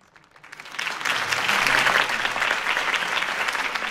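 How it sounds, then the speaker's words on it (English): A large crowd in the video game Batman: The Telltale Series applauds loudly and steadily, the clapping swelling quickly from a quiet start and holding as a dense wash of hands. "If only Mr. Wayne, my campaign's largest backer, could have heard that applause"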